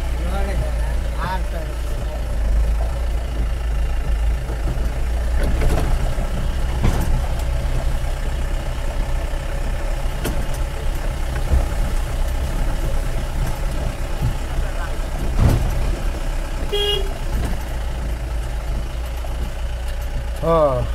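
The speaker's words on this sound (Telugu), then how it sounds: "జారిపోతుంది బండి. వెనక పక్క టైర్లు అయితే స్కిడ్ అవుతున్నాయి." A Mahindra Bolero pickup truck drives with its rear tyres skidding, its engine giving a steady low drone throughout, with occasional brief knocks and rattles and people talking over it.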